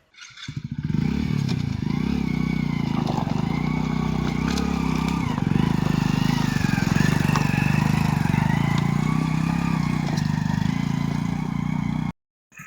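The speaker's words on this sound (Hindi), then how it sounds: "अब हम बाइक लेके जाएंगे इस चढ़ाई पे, देखते हैं क्या होता है।" A motorcycle climbs a steep hill near a hidden temple in Bundi, Rajasthan, its engine labouring loud and close with steady rumble and clattering for about eleven seconds before cutting off abruptly.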